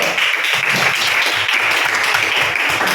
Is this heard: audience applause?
yes